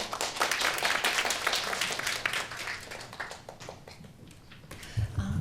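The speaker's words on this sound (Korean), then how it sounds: "큰 박수로 환영해 주시기 바랍니다" An audience at a panel presentation applauds with dense, sustained clapping that gradually thins out toward the end.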